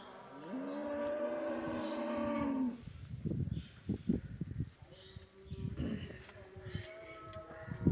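A bull buffalo calf at the Kattupudussery buffalo market gives one long, loud, drawn-out moo. Afterwards come clattering market noises and faint voices nearby.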